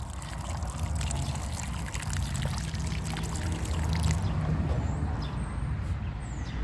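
A steady stream of water pours and trickles continuously onto loose garden soil for several seconds, close by and fairly quiet.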